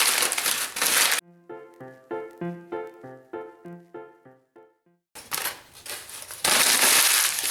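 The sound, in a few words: crumpling newspaper into a ball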